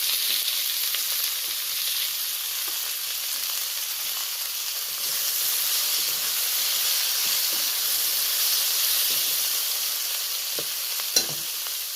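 Chopped onion, tomato and green chilli fry in a hot pan over a gas flame, giving a steady bright sizzle and hiss at moderate level throughout, with one brief sharp clink near the end and no talk.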